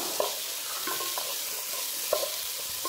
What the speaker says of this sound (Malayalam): തക്കാളി ചെറുതായിട്ട് മുറിച്ചത് ഇതിലേക്ക് ഇട്ടിട്ട് അതൊന്ന് മിക്സ് ചെയ്തിട്ട് നന്നായി ഇളക്കി കൊടുക്കണം.